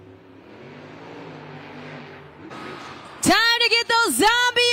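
The Zombie monster truck's engine rumbles at a Monster Jam stadium event in Anaheim, a low, rough drone building for a few seconds before a loud, tonal blast with wavering pitch cuts in and stutters near the end.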